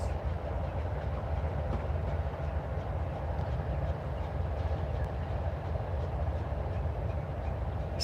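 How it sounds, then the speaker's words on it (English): A CSX freight train led by locomotive 5223 in Alabama, a steady low rumble of rolling wagons with faint rhythmic clicking from the rails, continuous and moderately distant. "That is lead locomotive 5223 sitting in front of you guys."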